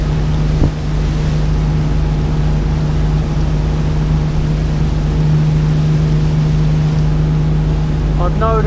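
A Primor 24 boat's engine runs at 4,400 revs as the boat builds speed, a loud, steady droning hum mixed with water rush, with a short voice near the end.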